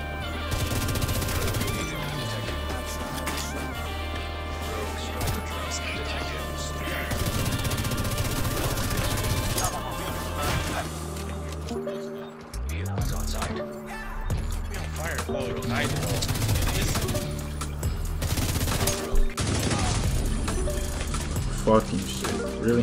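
Gunfire during a Division 2 PvP match on PS4: dense, continuous automatic shooting and impacts over a steady game soundscape, with a player talking throughout.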